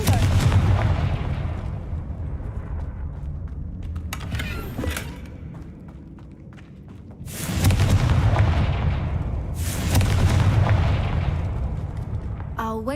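The Confringo blasting curse in Hogwarts Legacy goes off in a series of heavy booming explosions, one loud blast opening the sequence and then sharp bursts near the middle and later, each followed by a rumbling decay.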